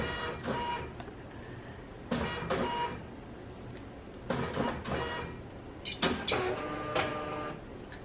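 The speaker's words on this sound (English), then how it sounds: "I had to turn my printer on because my Dymo doesn't print international labels." A desktop printer runs off an international shipping label, its mechanism whirring and clunking in several bursts of feed and print over several seconds, close and steady with no talk.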